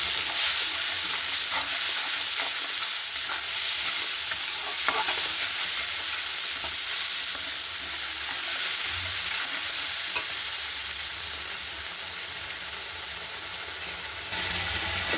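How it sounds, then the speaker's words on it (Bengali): Cumin powder, coriander powder and salt fry for rui fish kaliya in a dense, steady sizzle that runs throughout, with faint stirring scrapes close by and no talking. "একটু নেড়ে চেড়ে"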